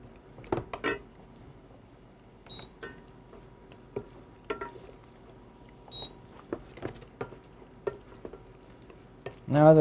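Pancetta browns in a pan with a soft sizzle under intermittent stirring scrapes and utensil taps, ending in a louder clatter; no one speaks.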